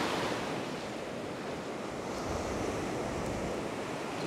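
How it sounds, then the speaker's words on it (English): Ocean surf breaks and washes on a Sydney beach at North Narrabeen, a steady roar of waves with some wind buffeting the microphone. It sounds loud and continuous, with no voices. "I just want to get out beyond that breaking wave."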